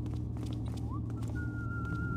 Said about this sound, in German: Polyphones Pfeifen, nicht gut.